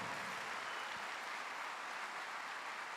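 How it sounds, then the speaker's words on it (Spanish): Congregation in a church clapping, a faint, even wash of applause heard from a distance for a few seconds. "Dale ese aplauso con fuerzas al Señor."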